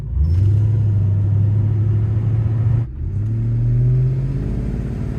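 A Mercedes-AMG M113K supercharged V8 car engine idles with a deep, steady rumble, dipping briefly near the middle before settling back into a smooth, loud drone.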